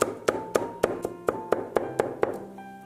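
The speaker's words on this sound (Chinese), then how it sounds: "拍散以后剁成末" Smashed garlic cloves being minced with a cleaver on a cutting board make sharp, evenly spaced chops, about ten in quick rhythm, close and alone.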